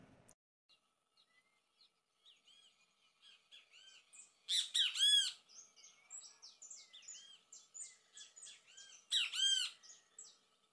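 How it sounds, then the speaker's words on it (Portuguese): Loud, repeated great kiskadee calls, harsh and ringing, with quieter chirps between the bursts, heard outdoors with no one speaking. "quem nunca viu ou ouviu um bem-te-vi?"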